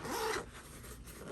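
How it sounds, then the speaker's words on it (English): The main security zipper on a Peak Design Everyday Sling bag slides open in a short, close, quiet rasping pull, followed by faint handling, with no talking. "So we got the main zipper over here"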